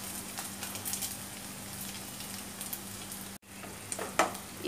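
Pieces of fried bommidi fish tipped with their frying oil into a tomato curry, giving a steady close sizzle with a brief dropout near the end and a small clatter after.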